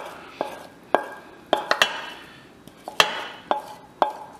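A spoon knocks and scrapes against a pan and slow cooker crock as sautéed onion, celery and garlic are moved across, giving close, irregular clinks and taps spaced over several seconds with no talking.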